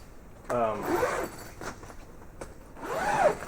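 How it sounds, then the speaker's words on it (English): Zipper on the canvas cover of a 2017 Lund 2075 Tyee boat being drawn down, a couple of quick rasping zips close to the microphone amid handling noise. "You'll just unsnap this and zip it down"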